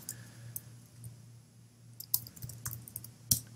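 A few sharp keystroke clicks on a computer keyboard while a command is typed at a command line, sparse and irregular over a faint steady hum.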